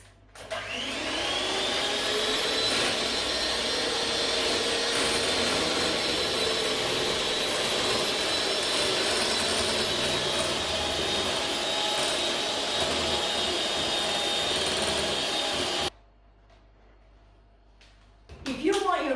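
An electric mixer whirs loudly and evenly through brownie batter for about fifteen seconds, then cuts off, leaving near quiet before a brief rustle at the end.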